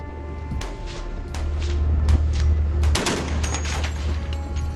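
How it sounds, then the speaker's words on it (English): A Coast Guard patrol vessel opens fire on a Chinese squid-jigging ship at sea, sharp gunshots cracking out in a loose, irregular volley over a steady low engine rumble. "The Coast Guard captain ordered his men to open fire on the Chinese ship."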